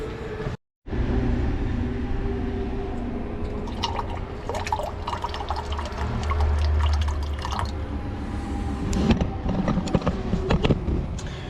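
Water running through a UV filtration system in a camper van at a dispersed campsite, a steady trickle with irregular drips and splashes and some gurgling from air bubbles, close and alone.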